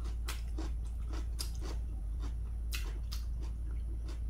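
Crunchy bites and chewing of wild lettuce (wanggodeulppaegi) kimchi eaten close up, a steady series of sharp crackling bites and mastication over a low constant hum, no talking.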